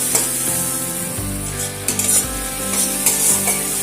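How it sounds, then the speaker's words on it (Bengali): Spice masala with tomatoes and salt fries and is stirred in a pan, giving a loud continuous sizzle with repeated spatula scrapes and clinks close by and no talk. "মশলাটাকে একটু কষিয়ে নিচ্ছি"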